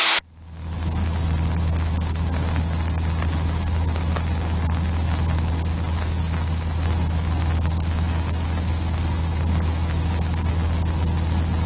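A Cessna 152 light aircraft engine drones steadily in flight, a loud continuous low hum with a constant whine above it, heard from inside the cabin with no break and no talking.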